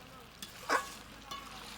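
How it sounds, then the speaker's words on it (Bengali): Pork with spices and ground onion, garlic and ginger being stirred in a hot pan, giving a faint sizzle with a few soft scraping stirs. "এটাকে এর ভালো করে কষিয়ে নেব"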